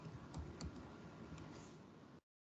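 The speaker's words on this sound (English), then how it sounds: "just typing heading employee details" Quick keystrokes on a computer keyboard, a soft close run of clicks with a few louder taps, for about two seconds before cutting to silence.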